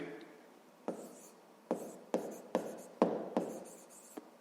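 A pen writing numbers on paper, several short distinct scratching strokes separated by brief pauses, close up and quiet, with no talking.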